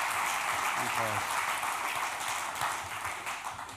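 A church congregation claps during a sermon, a dense, steady wash of applause that holds throughout and fades slightly toward the end, while a voice briefly speaks over it.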